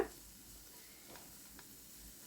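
Soft, steady sizzling of carrot and capsicum sautéing in a pan, with a couple of faint stirring scrapes.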